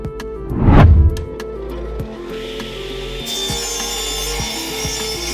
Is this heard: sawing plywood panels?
yes